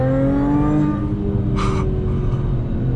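A tuned 2014 Audi A6 with an APR upgrade accelerates hard in sport mode, its engine droning loud and close from inside the cabin with steadily rising revs and a brief higher whine partway through.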